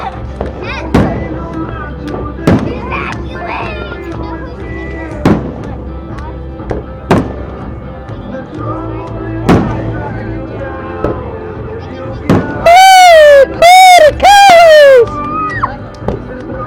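Fireworks at a 2013 Santa Clarita display: sharp, loud booming bursts every couple of seconds, then shrill rising whistles from several rockets near the end, with faint voices in the background.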